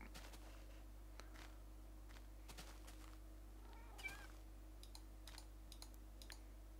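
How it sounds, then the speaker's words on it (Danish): A cat meows a few times, quiet and somewhat distant, with scattered clicks and taps from a room around it and a steady low electrical hum underneath. "Kat! Kitty."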